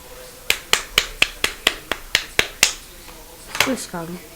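A person claps their hands about ten times in an even, brisk rhythm, each clap sharp and close, and a short bit of voice follows at the end.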